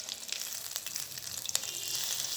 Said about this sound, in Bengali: এভাবে উল্টিয়ে উল্টিয়ে অনেকক্ষণ ধরে ভেজে নিব।